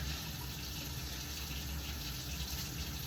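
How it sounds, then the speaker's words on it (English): Cold water runs steadily from a kitchen tap, a continuous even gush that stays close and fairly quiet throughout with no talking. "I'm gonna keep the water on cold so I can make some tea"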